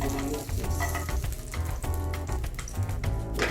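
Garlic sizzling in a hot pan in a professional kitchen during preparation of a lamb dish, a steady close crackling fry that holds loud and even throughout.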